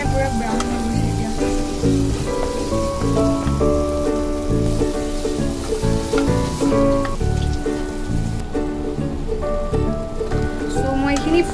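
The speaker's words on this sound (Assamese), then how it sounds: "মই এইখিনি ফ্ৰাই কৰি লৈছোঁ" Prawns fry in a pan with a continuous crackling sizzle, cooked for a Bengali-style prawn malai curry; melodic background music plays throughout underneath.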